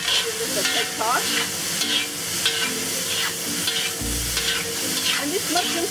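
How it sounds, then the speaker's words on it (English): Tofu and mushrooms stir-frying in oyster sauce, with a constant sizzle under repeated spatula scrapes and tosses against the pan, close and busy, no voices. "And these mushrooms cook up very fast."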